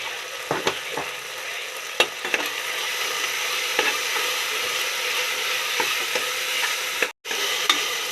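An onion-tomato masala with turmeric powder sizzles steadily in a pan while a spoon stirs it, its scrapes and knocks landing at irregular moments, close and fairly loud, with one brief gap near the end.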